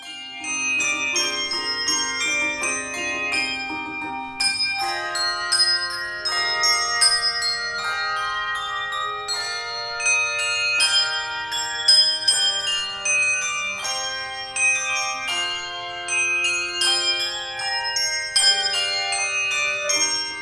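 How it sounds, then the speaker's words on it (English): Handbell choir rehearsing, a continuous ringing melody of overlapping bell tones with shimmering sustained chords and a low steady hum beneath, played alone without voices. "The bell choir, masked and gloved, rehearsed at separate tables and videotaped their music."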